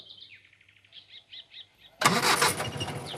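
Light birdsong chirps in quiet surroundings, then a car engine abruptly cranks and catches. It settles into a loud, continuous rumbling idle close by.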